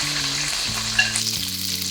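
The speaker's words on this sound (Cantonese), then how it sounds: "就用呢啲蒜香油嚟煎我哋嘅金沙骨啦。" Pork ribs frying in garlic oil over medium-low heat, a close, constant crackling sizzle with a small pop partway through and no voices.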